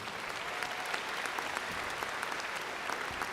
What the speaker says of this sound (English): Let's give our presidents a round of applause, please.